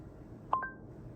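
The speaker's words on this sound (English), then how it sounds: "Okay, Google, call Sarah." A Lexus car multimedia system, first-generation interface, places a voice-command phone call: two quick electronic tones ring out clearly in the cabin, brief and alone against a low background hum.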